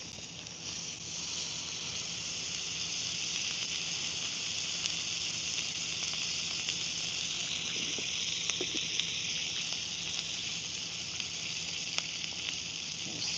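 Steak fat searing on a grill, a steady, close, dense sizzle with crackling spits running continuously and without pause from start to finish, no voices over it.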